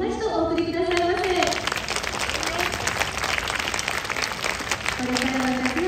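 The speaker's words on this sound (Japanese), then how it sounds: "どうぞ温かい拍手をもう一度お送りくださいませ。" Crowd of Hiroshima Carp fans applauding players at a spring training camp ceremony in Nichinan, a sustained dense clapping over a female announcer's voice at the start and end.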